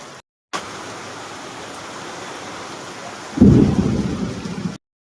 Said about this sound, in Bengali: এবার আসছে এদিকটায়, এই আসছে বৃষ্টিটা, এসছে দেখো